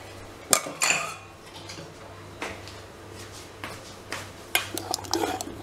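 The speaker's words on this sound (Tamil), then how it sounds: "தோசை மாவுக்கு தேவையான உப்பை போட்டு கிண்டி வச்சுக்கணும்." Spoon stirring salt into ragi and wheat dosa batter in a metal bowl, with a few sharp clinks against the rim and soft scraping between them, close and fairly quiet.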